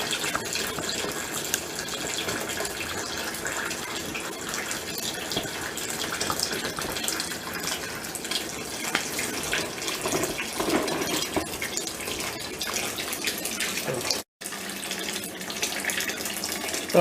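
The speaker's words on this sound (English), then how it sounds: "we're going to fill that sink full of warm, this is hot water" Hot water runs steadily from a tap into a sink for home brewing, a continuous close gush that briefly cuts out before resuming.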